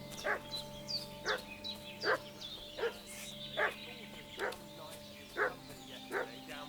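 A dog in a medieval village in Kingdom Come: Deliverance II barks and yips in a regular series of about nine short, evenly spaced calls, moderately distant, over a low ambient hum and faint birdsong.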